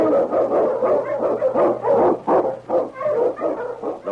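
Barking from an Eskimo lead dog, a Malamute sled dog, in a series of loud, close, repeated barks and yips with short gaps between them, carrying on steadily with no talk over them.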